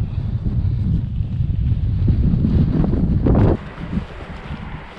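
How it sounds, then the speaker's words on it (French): Strong wind on the Causse Méjean plateau buffeting the microphone in loud, roaring gusts that suddenly drop off near the end, leaving a quieter rush. "on est en plein vent"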